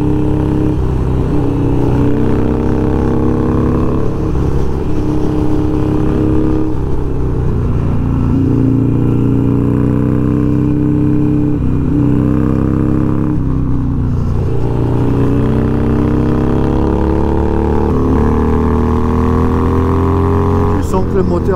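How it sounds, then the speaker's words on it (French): A tuned Harley-Davidson 1200XR motorcycle engine pulls loud and close, its pitch climbing repeatedly through the gears with short dips at each shift, while a rider talks over it. "Tu sens que le moteur de XR, il a qu'une envie, c'est que tu accélères."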